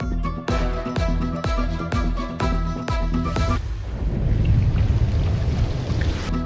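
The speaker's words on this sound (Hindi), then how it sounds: "शहर के मुख्तलिफ इलाकों में मूसलाधार बारिश।" Heavy downpour in city streets: dense, steady rain hiss fills the clip, with a series of sharp rhythmic knocks in the first half before it settles into continuous loud rushing rain.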